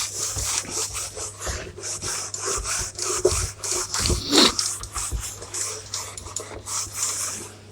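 A board eraser rubs out writing in a classroom, giving rapid rhythmic scrubbing strokes that are close and continuous, with no talking.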